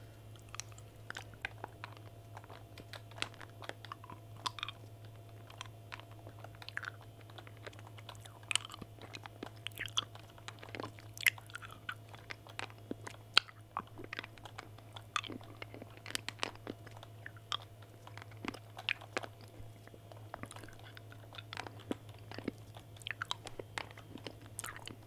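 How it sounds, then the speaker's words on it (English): Close crunching and chewing of hard candy in whispered gaming ASMR, irregular crisp cracks and mouth sounds scattered over a steady low hum. "Chewing the hard candy isn't too loud for you guys in your ear."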